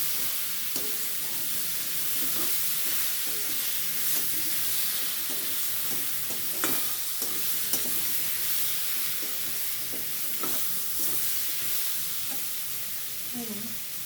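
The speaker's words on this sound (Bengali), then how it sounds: "চিংড়ি মাছটা দেবো, ভেজে নেবো ওর সঙ্গে" Shrimp sizzles steadily as it fries in a pan, broken by repeated scraping clinks of a spoon stirring through it, with a faint voice now and then.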